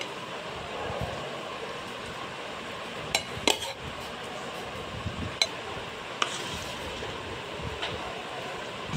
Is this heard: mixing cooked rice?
yes